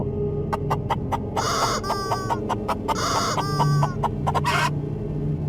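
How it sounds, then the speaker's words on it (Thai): Chickens cluck in quick repeated bursts, with a few louder squawks breaking through, close and clear with no talking. "ได้ยินเสียงไก่ร้องแปลกๆ"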